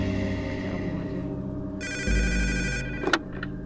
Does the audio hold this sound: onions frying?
no